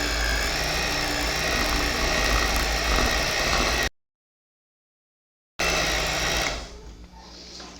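An electric stand mixer beats Ninho powdered-milk mousse with a steady, loud motor whir, cuts out abruptly for a few seconds, then resumes before winding down to a quieter hum.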